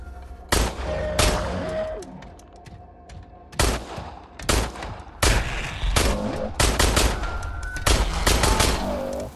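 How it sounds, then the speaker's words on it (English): Pistol fire in the game Industria: close, loud, sharp shots fired irregularly, some isolated and some in quick bursts, each ringing out briefly over a low ambient hum. "Let's see if I can take down the little bugger with the pistol"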